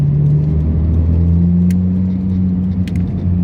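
A Nissan Skyline R33 GTS engine hums loud and steady while cruising gently in normal mode, a constant low drone with faint road noise and no revving.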